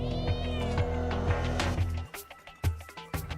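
Cat meowing in a video game, a run of drawn-out tonal meows over a steady background, followed by several shorter, choppier cries.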